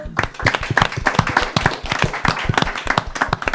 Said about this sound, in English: Round of applause for the guys